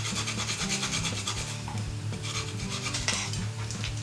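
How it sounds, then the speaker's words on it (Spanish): Food being grated on a hand grater, with steady continuous rasping strokes close up, alongside a faint sustained tonal hum in the background. "Y lo rallamos."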